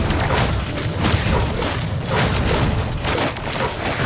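A grenade explodes in the video game Iron Marines, a loud, dense burst of booming, crackling noise that fills the whole moment without a break.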